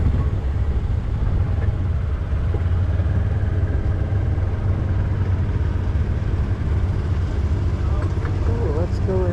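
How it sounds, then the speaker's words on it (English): A Case tractor engine runs at a tractor show in Rantoul, giving a steady, fairly loud low drone with no breaks, with voices in the crowd around it. "Case, it's a tractor."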